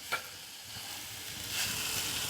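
Onions frying with a spoonful of poppy seeds in a pan for potato palya: a steady close sizzle that swells louder toward the end, with a brief knock at the start.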